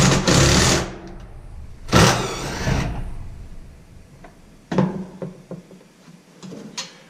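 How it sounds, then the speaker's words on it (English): A socket wrench with a 3/8 inch drive and 7/16 socket backs out a bolt on a 2006 Bluebird Vision school bus alternator, giving two loud ratcheting bursts and then softer clicks and knocks. "Going to back it up. It's a 3/8 inch socket with a 7/16 back."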